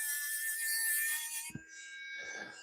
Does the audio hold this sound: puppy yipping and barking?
no